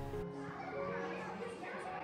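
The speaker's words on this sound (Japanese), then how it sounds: "子どもたちの声が響く村の朝、爽やかです。" Children's voices carry through a mountain village square in La Brigue, southern France, on a morning, forming a busy, continuous murmur of young chatter and play at moderate distance.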